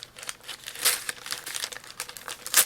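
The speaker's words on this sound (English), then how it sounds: "I ripped the bag with the knife." A paper bag being ripped open with a knife during a package unboxing, giving a burst of crisp tearing and crinkling with louder rips near the start and end, close by and heard alone.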